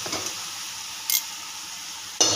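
Khandeshi masala khichdi being sautéed in a pan, a steady close sizzle with two brief scraping stirs of a spoon against the pan.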